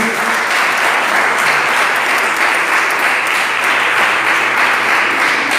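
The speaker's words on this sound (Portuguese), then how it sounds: "As palmas bem fortes que exaltam Jesus." Congregation in a church clapping loudly and continuously, a dense, steady wash of applause that fills the room at an even volume throughout.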